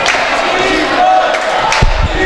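A small group of basketball fans at a high school homecoming game shouts and cheers in a steady, roomy crowd roar, with a few louder yells near the end.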